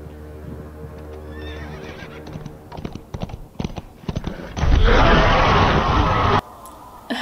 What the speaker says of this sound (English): Ride the horse.